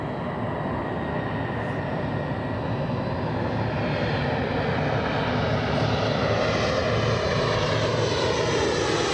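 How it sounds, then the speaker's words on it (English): An Embraer E175 jet arrives on approach into Los Angeles International Airport, its engines a steady, loud, broadband roar that swells slightly as it passes close overhead, with no talk. "E175 coming in. We have an E175 as I check the good old cheat sheets"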